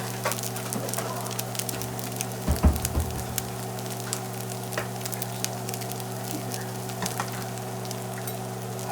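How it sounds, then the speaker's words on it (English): Noodles frying in a pan, crisping at the bottom: a soft, steady sizzle with crackles close by, a steady hum underneath and a brief clatter of a utensil. "when you hear that little frying sound, that's a good sign."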